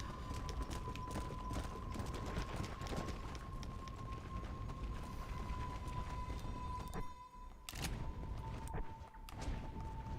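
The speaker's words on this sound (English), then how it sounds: "Get on your flaming horse now." Rapid, steady hoofbeats of a galloping horse in Red Dead Redemption: Undead Nightmare continue throughout, with a constant tonal hum underneath and a brief dip near the end.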